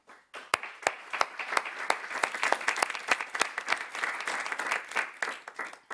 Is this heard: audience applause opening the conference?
yes